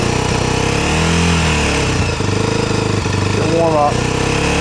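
A Honda engine runs at a snow event in Everett, Washington, holding a loud, steady droning rumble with slight revving, while someone speaks over it nearby.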